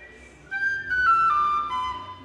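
Pennywhistle plays the opening phrase of a tune's B part in clear, bright sustained notes stepping downward, a short melodic line heard alone at moderate loudness.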